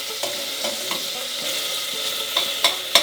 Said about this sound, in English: we have a little bit of sizzling going here